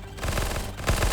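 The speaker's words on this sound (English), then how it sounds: "I shout over the sound of my burning bullets" Rapid burst of gunfire from the player's gun in Starbound, a loud dense stream of shots filling the whole moment without pause.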